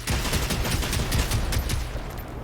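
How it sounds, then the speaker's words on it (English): Rapid gunfire with explosive ammunition in the video game Generation Zero, a dense, loud volley of overlapping shots and blasts continuing without pause, with no speech. "The explosion sound effects as well from the ammo is so damn cool."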